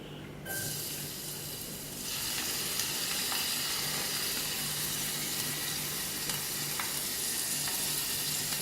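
Garlic and ginger sizzle steadily in hot coconut oil for a South Indian Kerala-style fish dish, a continuous bright frying hiss that swells louder after the first couple of seconds and holds, with faint clinks.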